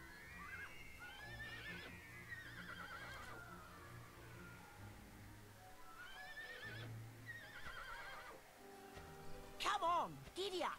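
Horse whinnies and hoof clip-clops from the Dragon Quest 8 game, with repeated neighing calls over steady background music and a sharper, louder whinny near the end; voices talk over parts of it.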